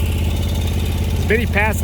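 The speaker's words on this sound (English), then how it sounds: "I got my lawnmower attached with the lawn sweep" A lawnmower engine runs steadily with a lawn sweep attached, a continuous mid-pitched drone throughout, joined near the end by a brief voice.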